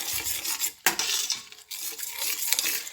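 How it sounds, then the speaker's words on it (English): A spoon stirs ogbono soup in a cooking pot, scraping and clinking against the metal in a steady back-and-forth close by, with one sharp knock of utensil on pot near the middle. "This is my ogbono. And I will give it a stir."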